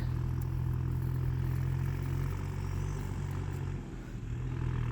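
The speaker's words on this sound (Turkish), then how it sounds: "Traktör." A tractor engine idles nearby at a garden fence site, giving a steady low, throbbing hum with a slight dip in loudness near the end and no talk.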